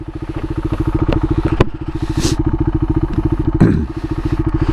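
A loud 2022 Husqvarna Vitpilen 401 with an aftermarket Kaufman exhaust idles with a rapid, throaty pulsing exhaust beat, interrupted by a few sharp clanks and a scrape.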